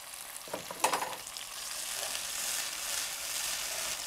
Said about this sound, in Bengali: সব কিছু দিয়ে বেশ কিছুক্ষণ এই মশলাটাকে কষিয়ে নিতে হবে।